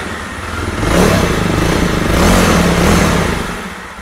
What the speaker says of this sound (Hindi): ये जो अभी एग्जॉस्ट है वो नॉर्मल आइडियल कंडीशन में है, एंड जैसे मैं इसका थ्रोटल को लेता हूं